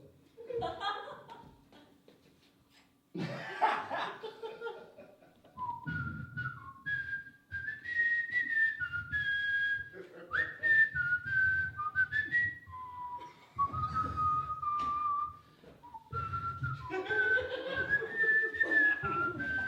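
A man imitates velociraptor calls from Jurassic Park with his voice, producing long gliding shrieks and whistle-like screeches in bursts that rise and fall, with short pauses and speech-like breaths between, loud and close, with laughter around it.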